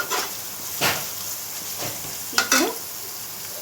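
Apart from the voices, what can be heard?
onions frying with turmeric in a pan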